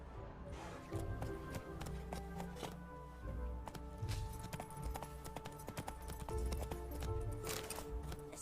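Roach, a horse in The Witcher 3, gallops with steady, driving hoofbeats that keep a quick rhythm throughout, set against game music and ambience, with a brief voice near the start.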